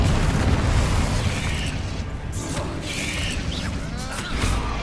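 Fire spell blasts from Hogwarts Legacy rumble in a dense, continuous wash of booming explosions and crackling debris, loud and unbroken, with several swelling bursts spread across the stretch.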